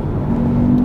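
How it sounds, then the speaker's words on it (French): Alfa Romeo Junior's synthetic engine sound played under full throttle, a steady droning hum with a rising tone, continuous and fairly loud inside the cabin, with no talking over it. "il y a un son comme si c'était un bruit de voiture thermique puissante"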